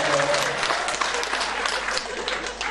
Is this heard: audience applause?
yes